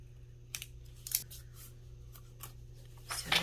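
Scissors snip through paper scraps while a handmade journal is trimmed, a few soft, close cuts spaced out, then a louder crisp snip near the end, in a quiet room.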